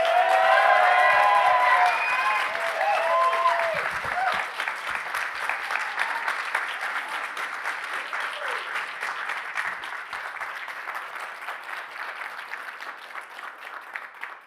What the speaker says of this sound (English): if we can give them one amazing round of applause